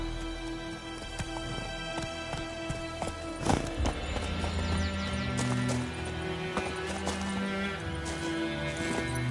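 Roach, a horse in The Witcher video game, gallops with steady clip-clop hoofbeats over a backdrop of game music, with a louder thud and a brief whinny partway through.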